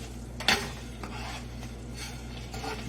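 Peanuts dropped into boiling sugar syrup in a pot for peanut brittle, a sharp clatter and rattle followed by soft stirring and bubbling over a steady low hum.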